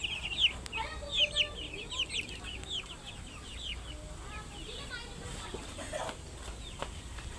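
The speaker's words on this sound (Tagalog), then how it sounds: "Ito yung madami yung mga sisiw. Ang dami nila dito." A large flock of chicks gives high, thin peeping calls, scattered and overlapping in short bursts for the first few seconds and then thinning out. Some clucking from fowl and low rural background noise run throughout.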